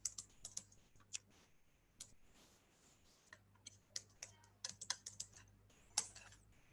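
Typing a command on a computer keyboard at a PowerShell prompt: quick irregular bursts of close, crisp key clicks with brief pauses between them.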